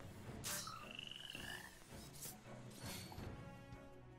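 Mud frog enemies in Final Fantasy 13 croaking in repeated gurgling bursts amid battle effects, with a few sharp hits and whooshing spell sounds mixed in, fairly quiet overall.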